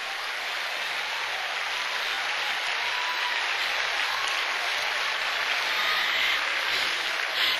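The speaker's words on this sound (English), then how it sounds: "Clap your hands, let me hear you praising." Church congregation clapping their hands during a sermon, a dense, even wash of many hands that stays loud and unbroken throughout, with no voices standing out.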